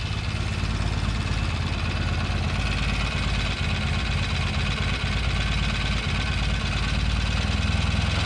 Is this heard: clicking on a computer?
no